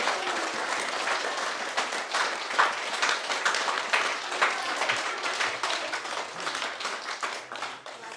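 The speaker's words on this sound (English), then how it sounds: "Can we have one last round of applause for Justin?" A book launch audience applauding the author, steady loud clapping from a room full of people that carries on without a break and fades a little at the end.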